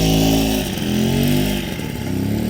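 Raleigh Wisp moped engine running through a warm-up cycle, a loud steady buzzing drone with slight dips and rises in revs, close by and alone with no talking.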